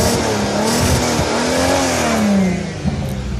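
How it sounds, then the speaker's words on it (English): A VW Golf Mk5 R32 with a free-revving engine redlining at 6,500 RPM is revved hard and rises to a loud, sustained snarl, then drops away near the end, heard up close with no talking. "Let's see if we can grab a bit of that engine now."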